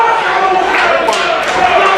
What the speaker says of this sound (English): this McKeesport crowd trying to rally Alexander